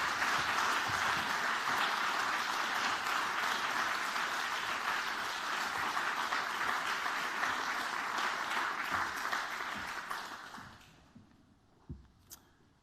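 A crowd applauds at the Festival of Learning Awards 2019 ceremony: a thick, sustained roar of clapping for about ten seconds, then it thins and dies away, leaving a few scattered claps in near silence.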